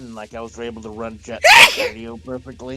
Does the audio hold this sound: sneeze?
yes